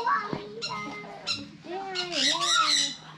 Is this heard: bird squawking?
yes